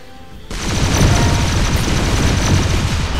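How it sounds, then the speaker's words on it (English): The guppies weapon in the tank video game ShellShock Live fires fish everywhere, a sudden loud onset followed by a dense, sustained crackling barrage of many rapid small impacts. "I got the guppies, which is the fish, so it's gonna shoot fish everywhere"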